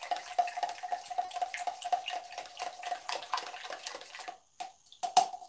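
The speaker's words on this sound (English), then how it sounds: "And power stir it." A spork stirs MRE drink mix hard inside a measuring cup, giving a fast, steady run of close scraping and sloshing strokes that ends in a sharp final clack.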